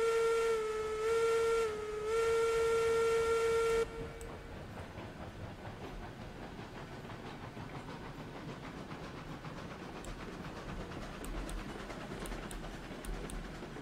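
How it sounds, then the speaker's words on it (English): A steam locomotive, a Class 70 in the RailRoads Online video game, gives a sustained whistle blast for about four seconds and then rolls out with a steady rumble and a soft hiss. "Alright, loco rolling out."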